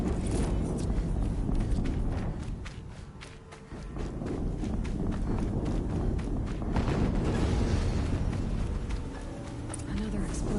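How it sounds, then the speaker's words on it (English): Dense, rumbling game-world explosion in Horizon Zero Dawn, a loud sustained low roar with scattered debris crackle that dips briefly and then swells again, with a voice talking over it. "Another explosion."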